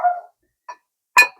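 A pet dog barking indoors during a talk on First World War relics, three short separate barks, the last the loudest and closest, with no talk over them.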